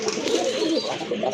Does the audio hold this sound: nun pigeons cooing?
yes